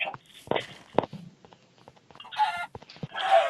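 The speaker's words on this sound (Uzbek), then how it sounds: "Tovuq." A chicken in a survival video game clucks in a few short, scattered bursts, with soft footstep-like taps between them.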